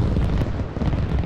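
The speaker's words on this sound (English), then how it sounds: "after the beautiful explosion" A loud, deep rumbling explosion in the military shooter Arma Reforger, a sustained low roar with crackling debris filling the whole short moment, no speech.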